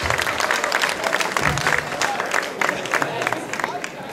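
A festival crowd applauds continuously, dense clapping from many hands filling the whole stretch at close range, with a voice speaking over the applause.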